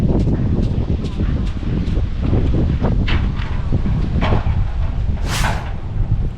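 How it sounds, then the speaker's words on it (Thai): Gusty wind off the Mekong River at Thakhek, Laos buffets the microphone in low rumbling bursts, with someone talking over it and a brief hiss near the end. "ลมพัดเย็นดีป่ะนี่เพราะว่าลมพัดเอาอายน้ำจากแม่น้ำของมาแต่พุ่นนี่ขึ้นมา"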